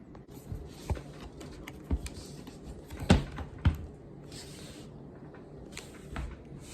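Typing on a keyboard, a quiet run of scattered key taps with a few heavier clacks, heard up close in a still room.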